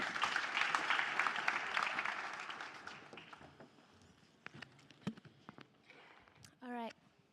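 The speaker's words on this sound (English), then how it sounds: "Let's give her a warm applause as she comes" Conference audience applause, a dense wash of clapping that swells for a few seconds and then thins into scattered claps and footsteps before a brief voice at the end.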